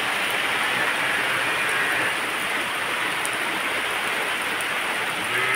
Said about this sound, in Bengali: প্রচণ্ড বৃষ্টি, প্রচণ্ড।